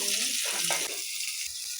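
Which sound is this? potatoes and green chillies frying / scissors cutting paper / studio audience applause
potatoes and green chillies frying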